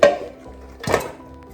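Two sharp clanks from a large cooking vessel being handled in a kitchen, one at the start and another just under a second later, each short and close, with no speech.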